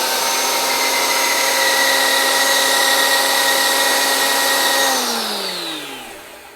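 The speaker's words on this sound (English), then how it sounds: "I'm just using a spice grinder because that's what I like to do." An electric spice grinder whirs loudly and steadily while grinding a homemade pumpkin spice blend, then its motor winds down, the pitch falling away over the last second and a half.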